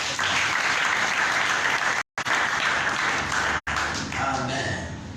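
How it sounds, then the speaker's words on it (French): A church congregation claps together after a call to applaud God during a French-language healing service, loud and dense, broken by two brief silent gaps, with some voices mixed into the crowd sound. "Applaudissons notre Dieu."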